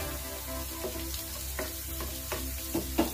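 Chili flakes go into golden-brown onions frying in a pan, with a soft steady sizzle over a low hum and several light scraping stirs, growing slightly louder toward the end, no talk.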